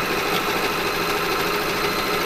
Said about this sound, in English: So we'll just run a little overlocked edge to this piece of fabric.